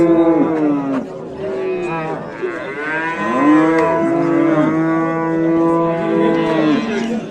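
A docile cow moos loudly and close, drawing out several long, wavering calls that run almost unbroken for about seven seconds.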